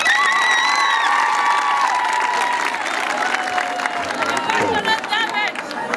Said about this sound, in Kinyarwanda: Ndasaba abo bamena amashyi